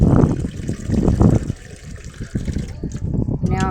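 Water from a tap splashes and trickles into a container on a house roof during cleaning, irregular bursts of pouring and gushing, with rustling handling noises and a brief rising fill tone at the end.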